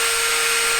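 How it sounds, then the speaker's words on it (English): Tungsten grinder sharpening TIG welding electrodes, a loud, steady high-pitched motor whine with a constant tone and no pauses, close up and without talk. "Dave, tell them about the tungsten grinder."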